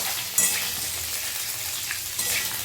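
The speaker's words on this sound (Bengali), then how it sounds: "সেদ্ধ করা আলুটা একটু ভেজে নিতে হবে তেলের মধ্যে।" Boiled potatoes fry in hot oil, a steady close sizzle broken by a couple of brief spatula scrapes.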